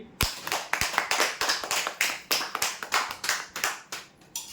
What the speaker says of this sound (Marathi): जोरदार टाळ्या द्या त्याच्यासाठी